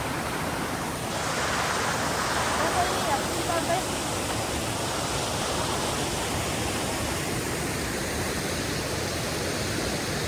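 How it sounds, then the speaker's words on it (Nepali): Mountain stream below Annapurna Base Camp on a trek, rushing water giving a steady broadband roar that runs unbroken through the whole stretch, close and fairly loud. "कस्तो राम्रो खोला रहेछ यहाँ बिचमा"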